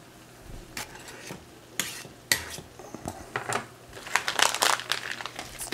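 Butter being stirred in a pan for tacos, heard as close, irregular scraping and clinking of a utensil against metal, with bursts of rustling and a faint sizzle beneath.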